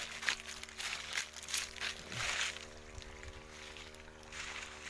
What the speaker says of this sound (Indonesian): Ini kita siram dulu itu pakai mesin tumput ya.